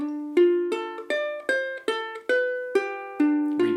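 Ukulele picking a G7th lick as a run of about nine plucked, arpeggiated notes in a steady rhythm, each ringing and decaying before the next, close and clear with no voices.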